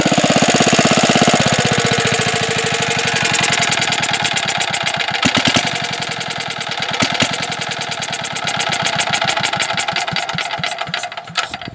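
A Bernard W19A small stationary engine idles steadily with a fast, even mechanical knocking beat, loud and close, continuing alone without talk.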